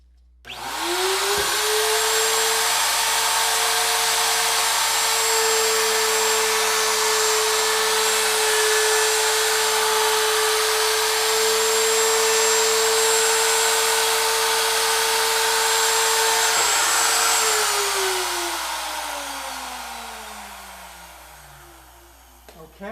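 A loud, steady high-pitched whine of a router cutting a recess in a wooden guitar rear cover, spinning up sharply, holding constant for about fifteen seconds, then winding down.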